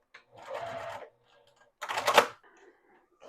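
A sewing machine puts stitches into the strap of a scrappy quilted tote bag in two short, fairly quiet bursts of rapid stitching with a pause between them and a soft rattle after.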